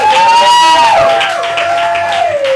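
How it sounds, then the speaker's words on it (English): An audience at an open mic night cheers loudly in a short burst, with rising and falling whoops over a thin bed of crowd noise that fades slightly toward the end. "Round of applause"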